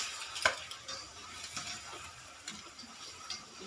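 Chicken afritada is stirred in a pan, with faint soft scrapes and a sharp utensil clink against the metal over a low sizzle, close by and quiet.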